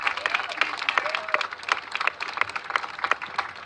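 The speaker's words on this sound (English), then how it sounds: "Let's give them a round of applause." A sparse scatter of individual claps comes from an audience at a government announcement on combating fentanyl, light, uneven and fairly close, with a faint murmur beneath.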